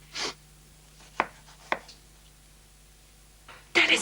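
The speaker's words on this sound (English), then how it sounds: "when you're chopping onions" A few separate knife chops through onion on a cutting board, sharp close knocks spaced apart, with a louder scraping burst at the end.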